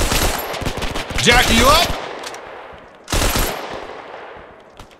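Machine gun covering fire in the Hell Let Loose war game: two loud bursts of rapid automatic shots, the first long and the second shorter after a pause, with a voice speaking briefly between.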